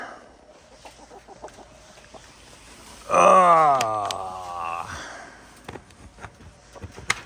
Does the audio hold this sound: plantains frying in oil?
no